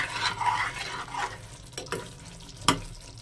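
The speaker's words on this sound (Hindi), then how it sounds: "इसको अच्छे से मिक्स कर लेंगे और अच्छे से पका लेंगे।" Masala soya chaap cooking in a pan while being stirred, a soft frying sizzle with faint scraping strokes and one sharp utensil clink near the end, fairly quiet throughout.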